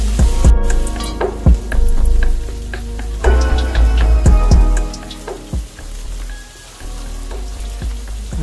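Pre-cooked lo mein noodles fry loudly in a hot pan, a steady dense sizzle broken by sharp crackles and clinks of stirring utensils throughout, with no voices.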